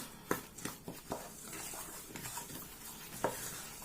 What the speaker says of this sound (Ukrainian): І все це гарненько перемішати, щоб всі інгредієнти між собою подружилися